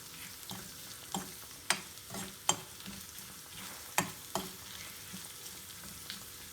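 Chutney ingredients fry and sizzle in a non-stick pan while a spoon stirs them, with sharp scraping clicks at irregular moments over a steady low hiss, heard close and alone.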